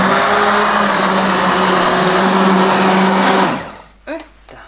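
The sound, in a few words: immersion blender pureeing apricot jam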